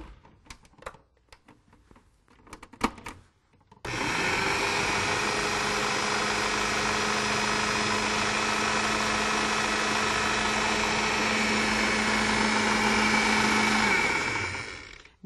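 Mixer motor whirs steadily as carob pie ingredients for a silken pie spin, starting abruptly after a few seconds of faint clatter and running loud and continuous with a sustained hum until it cuts off at the end.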